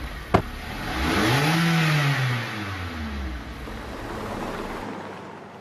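A GWM car driving off from a smart factory, its engine rising in a clear revving sweep after a brief knock, then settling into a steady moderate running drone with tyre and road noise.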